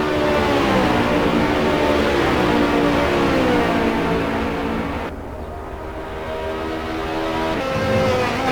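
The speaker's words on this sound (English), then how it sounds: "tia Ragibeni's first race in the GTE series, still learning his Ferrari." A Ferrari GTE race car engine roars steadily in a racing simulator, loud and sustained, with rising and falling revs and a brief dip around a gear change or corner before climbing again.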